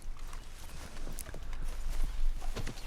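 Horse hooves clip-clop in Red Dead Redemption 2, a close, loud run of irregular hoof strikes that keeps a steady walking rhythm throughout, with no speech over it.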